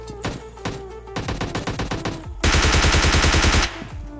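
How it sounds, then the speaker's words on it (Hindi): Rapid automatic Bizon submachine gun fire in PUBG Lite, with several quick volleys of shots and then a loud sustained burst of over a second, close and punchy, with no talk. "अब मैं बाइजन उठा के फिर रश कर देता हूँ।"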